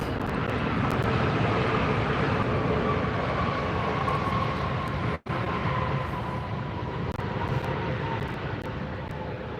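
A Norse Airways jet landing at LAX, a loud steady engine roar and rushing noise that holds throughout, broken by one brief dropout midway, with no talk.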